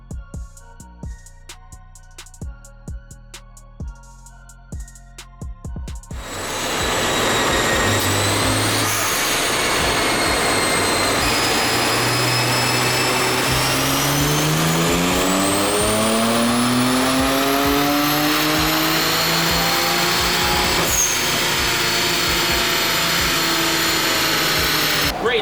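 A BMW 335i on a dyno: after a quiet start, the engine roars in loud and steady, then rises through a long sustained pull with climbing pitch, running continuously to the end with no talk.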